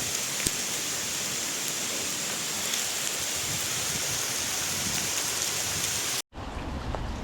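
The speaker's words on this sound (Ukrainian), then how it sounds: "Пішов град. Вон дивіться." Hail falls from a small passing cloud onto a tree and the ground near Kyiv, a steady, dense patter that runs on evenly before a brief cut near the end.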